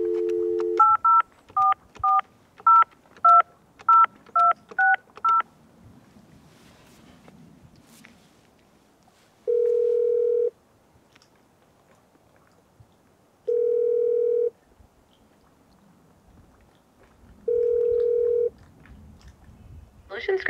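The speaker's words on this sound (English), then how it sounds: "let's go ahead and place a test call and see how we're doing here. I'll put this on speaker." A phone on speaker for a test call from a mobile command center: a quick run of eight touch-tone dialing beeps, then three evenly spaced ringback tones, each about a second long, with faint room noise between.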